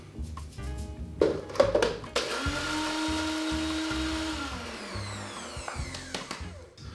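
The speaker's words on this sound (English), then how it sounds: "So you can use any food processor or blender. I'm just using this little NutriBullet." A small NutriBullet blender grinding biscuits whirs in a steady high-pitched run for several seconds, preceded by short pulsing bursts and clattering, then winds down.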